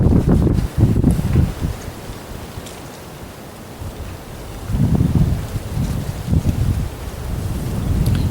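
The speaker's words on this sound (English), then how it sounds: "just in case this wind gets any worse" Strong wind gusting through trees outdoors at a West Virginia hunting camp during firearm season, a loud continuous roar that swells and eases in repeated surges, with no voices.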